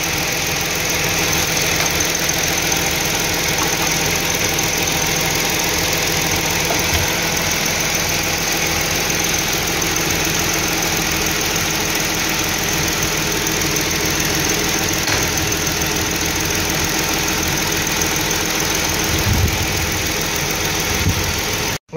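A Dodge Journey with the 2.7L engine idles steadily and close by, a continuous low hum with a faint knocking vibration running unbroken for the whole stretch, no talk over it.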